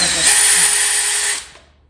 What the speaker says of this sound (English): pre-drilling that top rail